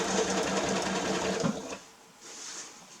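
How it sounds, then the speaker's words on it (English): Sewing machine running a straight stitch through fabric, a steady close mechanical whir with rapid needle clatter for about two seconds before stopping, followed by quieter handling noise. "And then I'll lock stitch at the end and cut the thread."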